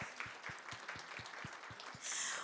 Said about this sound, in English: a round of applause to all of you for being here this evening